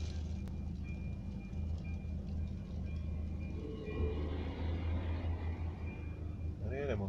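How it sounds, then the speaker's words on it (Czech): A small diesel railcar rumbles by nearby under a low engine drone, steady throughout, with a rising squeal near the end, in the Česká Lípa region, Czech Republic. A person talks over it. "Tady jede motoráček."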